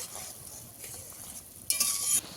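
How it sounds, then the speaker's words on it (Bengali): Snakehead fish curry gravy with peas bubbling in a pan, a soft steady simmer that swells into a louder, brighter hiss near the end, with no talk. "ঝোল ভালো করে ফুটে গেছে"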